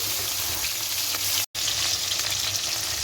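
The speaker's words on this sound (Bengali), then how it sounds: "কড়াইয়ের মধ্যে দিয়ে দিয়েছে তেল তো মা এক এক করে সব মাছগুলো দিয়ে দিচ্ছে" Steady, loud sizzling of fish frying in hot oil, continuous throughout with a brief cut of silence midway.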